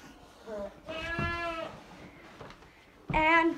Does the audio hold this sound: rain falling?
no